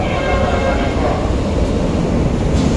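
LRT light rail train pulling into an elevated station: a loud, continuous rumble and wheel roar that fills the clip, heard close up with no pause.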